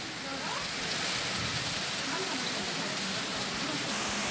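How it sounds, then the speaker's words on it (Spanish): Heavy rain pouring down steadily in the Canary Islands, a dense, continuous hiss that stays loud and even throughout with no break. "fuerte pedazo de lluvia"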